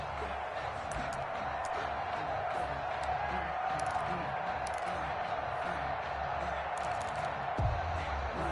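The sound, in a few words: NFL stadium crowd cheering before Panthers vs Bears game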